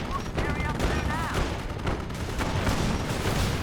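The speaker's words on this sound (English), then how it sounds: "we've got commandos bringing some actual artillery right there" Artillery and gunfire in Company of Heroes, with commandos calling in artillery during a Panzer Elite versus British match: a continuous dense fusillade of booms and shots under a commentator's talk.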